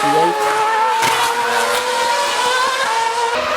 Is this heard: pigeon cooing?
no